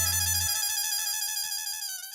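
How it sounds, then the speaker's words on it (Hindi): A phone's ringtone plays for an incoming call, a bright repeating electronic melody that rings on steadily after a brief low hum cuts off at the start, with no talking. "लगता है उन्हीं का फोन आ रहा है"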